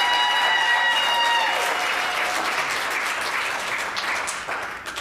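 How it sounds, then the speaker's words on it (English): At a 2022 Georgia Council on Developmental Disabilities candidate forum, an audience applauds community leaders seated at a table, a full burst of clapping that gradually fades, with a brief tone and a few voices early on. "so let's give them a round of applause too"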